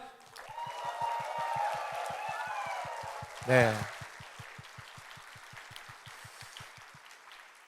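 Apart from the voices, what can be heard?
congregation applause in church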